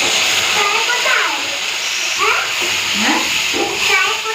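Pancha phoron spices and onion fry in a pan, giving a steady broadband sizzle and hiss that runs the whole time, with faint voice-like sounds drifting under it.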